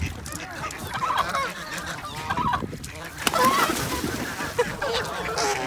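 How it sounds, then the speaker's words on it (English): A white duck at Webster Pond calls close by with rough honking quacks and squawks, scattered in short bursts over outdoor background noise and rustling. "we had a pretty white duck behind us"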